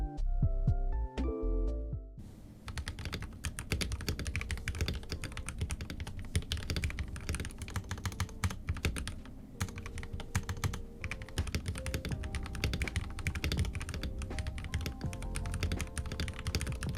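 Typing on a custom-built RK84 mechanical keyboard, a dense stream of crisp keystrokes clattering steadily and close up for the whole stretch after a brief opening note sequence, with no talking.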